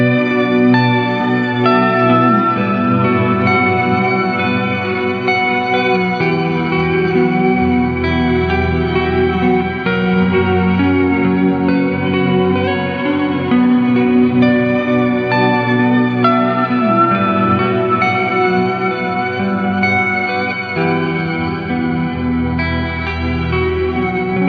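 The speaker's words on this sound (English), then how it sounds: "This will add a lower and an upper octave to the reverb tail." An EarthQuaker Devices Astral Destiny reverb pedal in Sub Shimmer mode adds lower and upper octaves to a long reverb tail on sustained guitar chords, giving a dense, loud, shimmering wash that plays continuously without speech.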